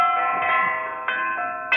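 A church bell tower tolls with sustained ringing tones, several strikes blending into one another, with fresh strikes audible among the lingering hum.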